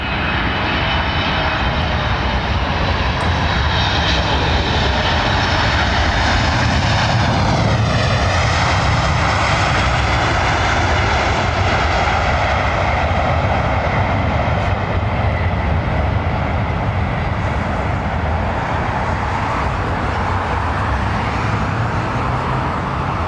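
Airliner landing at London Heathrow Airport, a loud continuous jet engine roar with rushing air that holds steady throughout, with a brief shift in pitch midway, and no voices.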